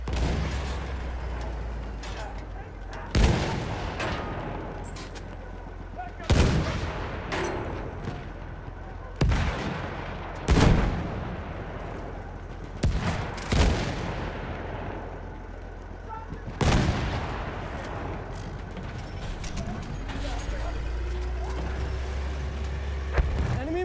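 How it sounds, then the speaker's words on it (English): Battlefield 1 battle ambience with heavy booming blasts and shots spaced every few seconds over a constant rumble of combat, and a voice talks at times. "Enemy machine gun over there!"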